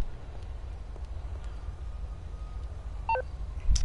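A short burst of electronic phone beeps in a GTA game, a quick rising and falling run of tones near the end over a quiet hum and low rumble.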